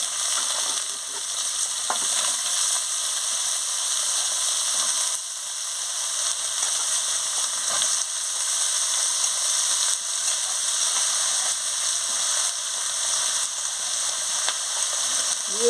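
Potato and eggplant frying in a pan with already fried onion, a steady loud sizzle with crackling spits and occasional scrapes of stirring, continuous and close.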